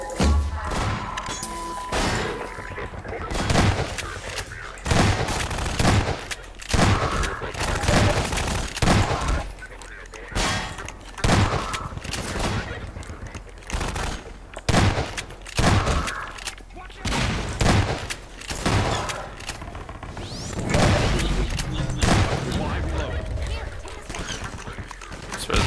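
Repeated gunfire from an arsenal of video game guns, bursts and single shots cracking loudly in irregular clusters throughout, with a voice talking over the shooting.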